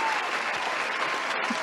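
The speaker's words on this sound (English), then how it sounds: "The clapping's coming." Dense, continuous audience clapping at a virtual pitch night, steady and fairly loud throughout the short stretch with no gaps.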